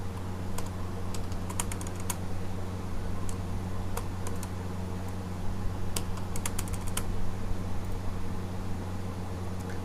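Computer keyboard typing while an income figure is entered, a steady run of light clicking key taps over a constant low hum, with no voices.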